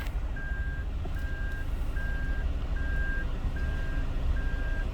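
A Toyota Veloz's parking sensor sounds six evenly spaced beeps while reversing. Each beep is a steady, clear tone, heard over a low, constant engine and road rumble.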